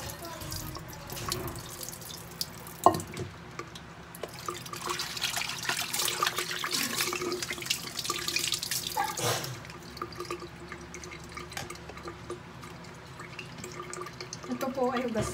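Tap water running and splashing in a sink while galunggong fish are washed for paksiw with eggplant, a steady close trickle with handling noises, and a voice speaks partway through.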